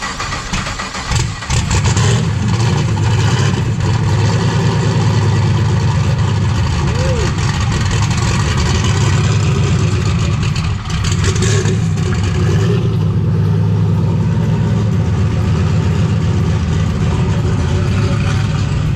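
A brand-new LS3 416ci turbocharged engine fires up near the start and settles into a loud, steady, close-up idle that holds for the rest of the stretch with no talk over it.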